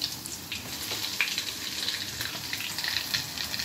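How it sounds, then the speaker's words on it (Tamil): Oil frying in a wok gives a faint, steady sizzle with soft crackles, fairly quiet and continuous, with no voices. "நம்ம வந்து ஃப்ரை பண்ணலாம்."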